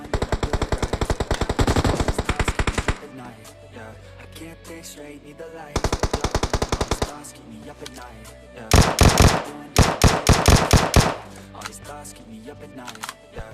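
Automatic gunfire rattles in BGMI on the Livik map, with long rapid bursts of sharp, close shots separated by brief pauses and then heavier, louder volleys near the end.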